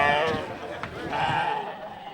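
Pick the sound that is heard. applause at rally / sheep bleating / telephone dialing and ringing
sheep bleating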